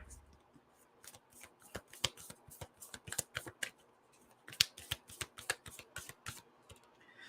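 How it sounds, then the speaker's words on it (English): A deck of guidance cards is shuffled in a rapid run of crisp riffling snaps, near and moderately loud, with a short pause midway before a second burst; no one speaks. "let's pull a guidance card out for Scorpio"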